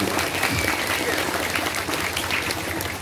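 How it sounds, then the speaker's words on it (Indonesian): Crowd applause at an Islamic religious gathering honouring Nahdlatul Ulama clerics, a dense, sustained wash of clapping from a large audience, loud and continuous for the whole stretch. "Tepuk tangan untuk kiai kita, Nahdlatul Ulama."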